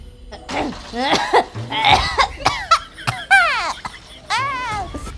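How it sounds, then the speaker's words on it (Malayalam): Several harsh coughs and throat-clearing bursts close by, mixed with voiced vocal sounds and short pauses between them. "എന്താ ചേച്ചി ചുമക്കുന്നേ"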